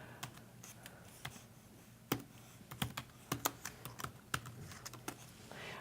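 Quick, light clicking of keys on a computer keyboard as a word is typed, irregular taps in small clusters, close and fairly quiet, no talking.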